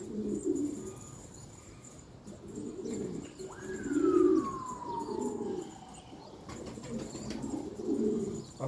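Pigeons coo close by in repeated low throaty phrases, with a distant siren sweeping down in the background partway through.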